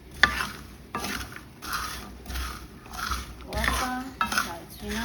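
Groundnuts dry-frying in a pan at home, with repeated rhythmic scraping strokes of stirring every second or so and soft crackling between, close and moderately loud.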